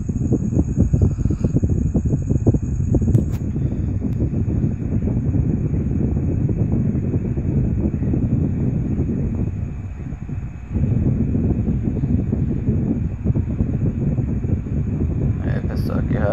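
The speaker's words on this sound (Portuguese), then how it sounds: "já tem bastante vento já, não tá muito forte não" Steady wind blowing outdoors at a stream while fishing with a gill net, a continuous rushing, buffeting noise with no pauses, close and fairly loud.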